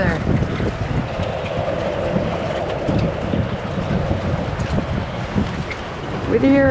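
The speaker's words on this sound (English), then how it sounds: "the wind has kicked up" Strong wind buffets the microphone in a steady, loud roar on a boat in stormy conditions near Whittier, Alaska, with a brief tonal whine near the end.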